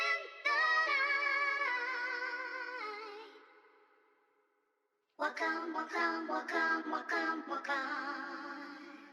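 Processed soul vocal sample for a hip-hop beat: a smooth sustained sung phrase fades to silence, then a choppier, stuttering vocal segment resumes, fairly quiet and alone.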